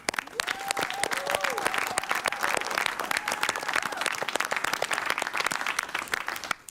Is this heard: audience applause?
yes